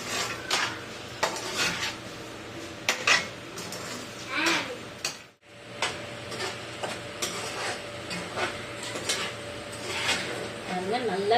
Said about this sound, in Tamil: இதை நல்லா இப்படி கலந்து விட்டுக்கோங்க